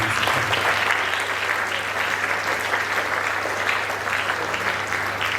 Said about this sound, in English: So a huge round of applause for parents.